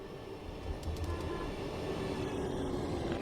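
Class 700 Desiro City train in Train Sim World 4 running past on a flat, straight line toward Gravesend, a steady, fairly faint rolling rumble with a few light metallic squeals.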